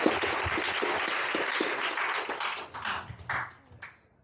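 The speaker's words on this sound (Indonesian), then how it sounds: "tepuk tangan tanpa diminta" An audience at a live book talk in the Gramedia Merdeka bookstore in Bandung claps steadily for a few seconds, then thins out into scattered final claps.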